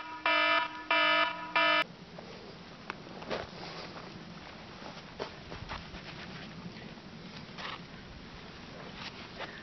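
A cooking timer alarm at a camp in Wales Canyon goes off in three quick, loud bursts of sharp electronic beeping over the first two seconds, then gives way to quieter clattering and rustling camp sounds.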